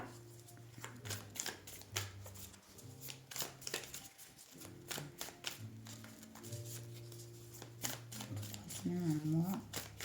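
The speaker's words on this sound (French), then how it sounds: "On va aller tirer une carte sur le Lenormand." Lenormand cards being drawn and shuffled by hand for a tarot reading, a run of quick papery flicks and riffles close to the listener, with a voice talking over them.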